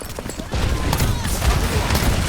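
Rapid gunfire from the video game Overwatch 2, dense and loud, with bursts of shots running continuously alongside excited speech throughout.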